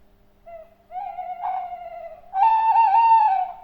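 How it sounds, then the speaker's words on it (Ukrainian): An owl calls at night in the Holosiivskyi forest, Kyiv, giving several clear, close hooting notes that grow louder, the last one longest, against a quiet background. "Сова співає."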